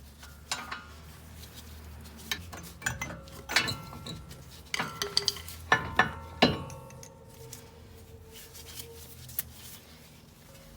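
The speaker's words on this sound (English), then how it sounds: "Simply going to go with a big screwdriver and lever it off." A big screwdriver prying the front brake caliper off an Audi A3 during a brake pad change, giving scattered sharp metallic clinks and scrapes, clustered around the middle with a few lighter knocks before and after.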